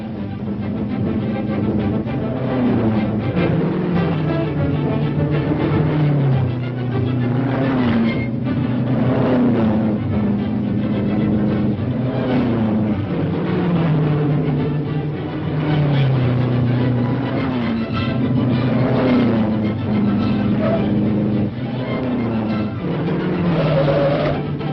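Race cars in a vintage auto race roar past with a loud, continuous engine drone that rises and falls in pitch as the cars speed along, with no talk over it.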